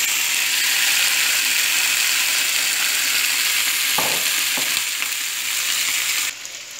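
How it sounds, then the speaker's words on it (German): Sliced vegan sausages sizzle steadily in a frying pan, a close, continuous hiss with a few faint clicks and scrapes partway through before the sound drops off near the end. "Jetzt kommt das Ganze hier in die Pfanne."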